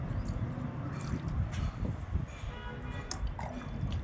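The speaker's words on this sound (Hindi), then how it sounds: "पहले हम दायां पैर गट्टों समेत धोएंगे, टखनों समेत धोएंगे 3 मरतबा।" Water poured and dripping while the right foot is washed during wudu, a soft, close trickle with scattered splashes and drips, fairly quiet and steady.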